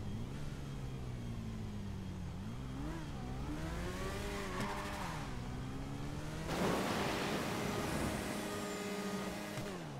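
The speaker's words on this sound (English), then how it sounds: "Seems like the engine seems a little bit softer." Oppressor flying bike engine in GTA Online drones steadily for the whole stretch, its pitch sliding up and down with throttle changes and a louder surge near the end.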